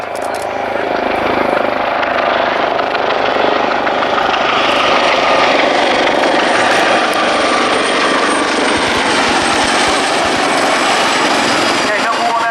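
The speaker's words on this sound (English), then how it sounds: "Okay, number 1 aircraft in the lead, staying low." Military aircraft flying low at the Yeovilton Air Day air show, a loud continuous roar of rotor and engine noise filling the whole stretch, heard close and steady.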